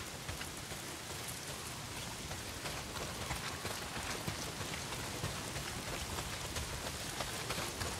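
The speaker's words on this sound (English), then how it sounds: "Well, not if it's pissing down rain." Heavy rain pouring steadily in the video game Days Gone, a dense, even hiss of drops on surfaces that runs unbroken with no voices over it.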